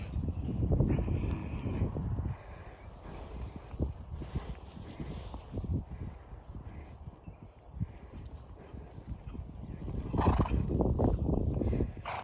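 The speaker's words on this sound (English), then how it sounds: "This is my horse." Horse neighing and whinnying at a dressage yard, loud bursts near the start and again toward the end over steady outdoor background noise, with faint clip-clop of hooves in between.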